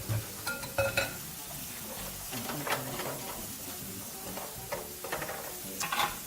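Chicken sears in a hot pan with a steady sizzle, broken by a few sharper ticks and scrapes as the pieces are turned.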